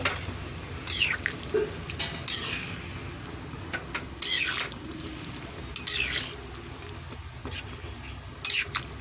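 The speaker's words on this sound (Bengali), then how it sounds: "এটা কড়ার মধ্যে দিয়ে ভালো করে নেড়ে নেব" Ghugni stirred in a kadai with repeated scraping strokes, each a brief rough burst recurring every second or two over a low simmering background, close and moderately loud with no talk.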